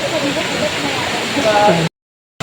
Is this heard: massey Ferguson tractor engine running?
no